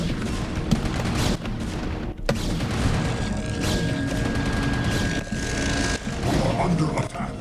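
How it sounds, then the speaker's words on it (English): Gunfire and explosions in StarCraft Remastered, with dense bursts of shots and booming impacts crowding a steady battle din throughout. "I can hear gunfire"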